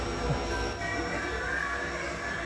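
A subway train sound effect at a Spirit Halloween store rumbles steadily with a continuous low roar and faint metallic hum, loud and close throughout.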